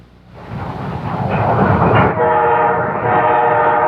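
A freight train passes through McPherson, Kansas, rumbling in loud and close with rolling wheel clatter, then its horn sounds a long sustained blast over the rushing cars.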